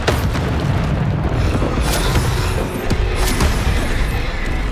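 A Bombarda blasting spell explodes in Hogwarts Legacy, a dense, loud rumbling boom with crackling debris and sharp bursts layered over continuous low battle noise.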